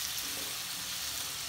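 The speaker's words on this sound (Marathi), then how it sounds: "हे चांगलं मिक्स करून घ्यायचं" Butter chicken mixture with ginger-garlic paste stirred and frying in a pan, a steady close sizzle with soft scraping throughout, no voices.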